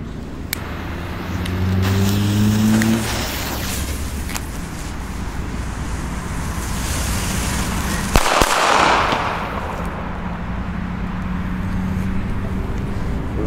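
A German legal firecracker with a long fuse burns quietly for several seconds, then goes off in one sharp, loud bang. Traffic noise from passing cars continues underneath throughout.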